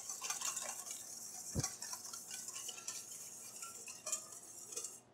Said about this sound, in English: Whisk everything up.